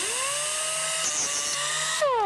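A McKeegan foot-pedal operated specialty shaped saw cutting material. A high motor whine holds steady, a brief cutting scrape comes midway, and the pitch shifts near the end. The sound is loud and close, with no speech.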